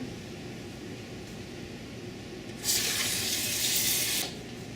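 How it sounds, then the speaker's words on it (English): Tap water gushes loudly for about a second and a half as freshly picked mulberries are rinsed in a kitchen sink, starting and stopping abruptly over a low background hum. "you can rinse through it 2 or 3 times to make sure that everything is out"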